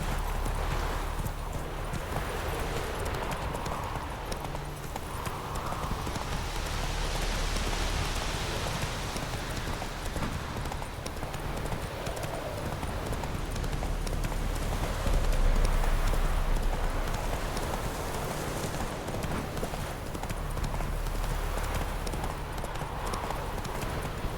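Roach the horse galloping in The Witcher 3, a steady rapid clip-clop of hooves under falling rain, close and continuous with brief snorts.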